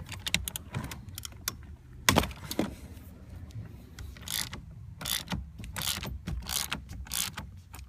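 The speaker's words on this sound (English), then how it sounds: "get a 19mm socket and remove that bolt only halfway" A 19mm socket on a ratchet loosens a steering wheel bolt, giving a series of sharp, close mechanical clicks and ratcheting bursts in irregular spurts with small metallic clatters between them.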